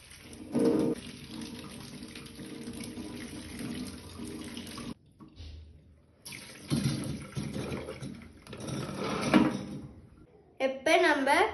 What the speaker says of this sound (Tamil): இப்ப நம்ம பறிச்ச நெல்லிக்கான கழுவ போகிறோம்.